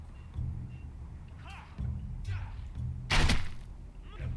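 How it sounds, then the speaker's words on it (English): A crossbow bolt thuds into a training dummy in a Game of Thrones video game, a sharp loud impact standing out among softer thumps, with a voice speaking briefly. "Shoot the targets I tell you to."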